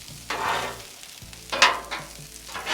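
Minced garlic frying in a pan for fried rice, with bursts of sizzling and stirring scrapes that swell and fade across a few seconds, fairly close and moderately loud, with no talking.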